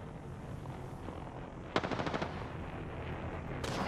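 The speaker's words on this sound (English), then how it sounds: "Taking fire!" Automatic weapon fire in the battle-royale shooter Apex Legends: a sudden rapid burst of gunshots lasting under a second, then a second shorter burst near the end, over a steady game background.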